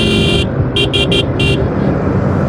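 Bajaj Dominar motorcycle engine droning loudly on a highway, with steady road and wind noise and several short high horn-like beeps cutting in over the top.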